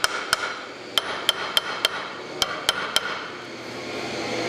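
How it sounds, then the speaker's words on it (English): A hammer strikes a cylinder piston tool during a rebuild, giving eight sharp metallic taps at uneven intervals, close and loud with no talking. "give it a little smack with the hammer"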